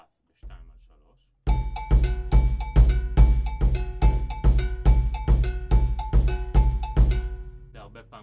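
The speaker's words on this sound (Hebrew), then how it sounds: "מצטרף אליו הבאס ב-2 על 3." A Moroccan groove, in the Gnawa and Jewish Moroccan style, sets a bright metallic bell pattern against a deep bass in two-over-three. Steady, loud, evenly spaced struck hits repeat for about six seconds after a short lead-in.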